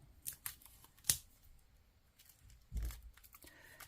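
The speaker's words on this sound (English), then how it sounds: "let's take the cellophane off and have a look at the cards" Cellophane wrapping is torn and crinkled off a tarot card deck box in quiet, close bursts: a few sharp snips and rips, then a crunchy scrunch of plastic.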